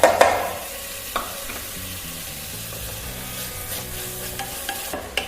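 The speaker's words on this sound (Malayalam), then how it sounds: "ജിഞ്ചർ ഗാർലിക് പേസ്റ്റ് ചേർത്ത് കൊടുത്ത് ഒരു 1-2 മിനിറ്റ് അതിന്റെ പച്ചമണം മാറുന്നത് വരെ ഒന്ന് കുക്ക് ചെയ്തെടുക്കാം" Ginger garlic paste cooks in a pan for a chicken roast with a steady close sizzle, and a spoon stirs and scrapes with a few clinks against the pan.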